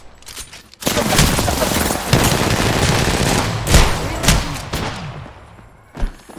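Loud bursts of automatic gunfire in the video game Apex Legends, rapid fusillades with short gaps and a few sharp single shots, close and dominant, with faint player voices underneath.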